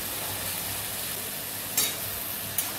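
Onion and a little salt being stirred in a pan for a prawn dopiaza, with a soft continuous frying hiss and two brief sharp scrapes of a spatula near the end.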